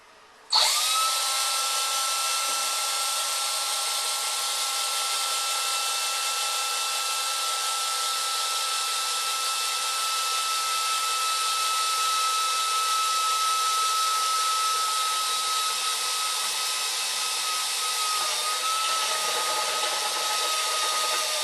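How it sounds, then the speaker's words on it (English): A power drill bores a hole through a stainless steel brew kettle, whining loud and steady close up for about twenty seconds, its pitch shifting slightly near the end as the bit cuts through. "so I'm just going to drill"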